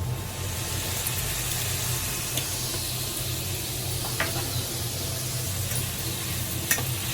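Onions fry with salt in a pan, a soft, steady sizzle with a few sharp clicks of stirring.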